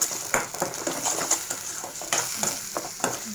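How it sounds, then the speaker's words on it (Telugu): Onion frying in oil in a pan for crab curry, a soft sizzle under repeated clinks and scrapes of a spoon stirring against the pan. "ఉల్లిపాయ అయితే వేగుతుందండి"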